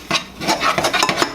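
Breadcrumbs mixed with butter in a bowl for a mac and cheese topping, a close, quick series of scraping and rubbing strokes, about seven in rapid rhythm.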